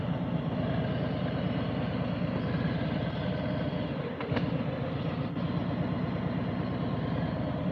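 A motorcycle engine idles and rumbles steadily during a slow-speed U-turn under clutch control, a continuous low drone with a brief dip midway.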